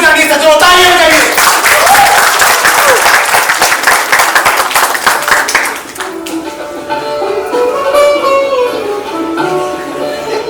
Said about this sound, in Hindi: आपको तालियां बजानी है सज्जनों, तालियां बजाइए।